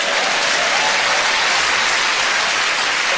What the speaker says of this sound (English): The audience were cheering you, Isabel.